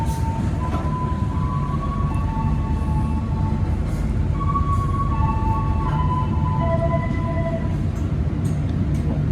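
A train passes on an Indonesian railway, a loud, steady rumble and rolling roar that fills the whole stretch, with faint high tonal whines drifting above it and no voices.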